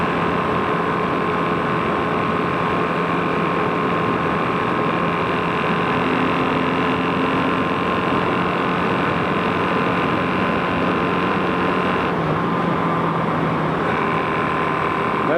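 A Kawasaki KZ440 motorcycle with a single carburetor is ridden. Its engine and rough-sounding exhaust pipes give a continuous loud drone, mixed with heavy wind rush, steady throughout.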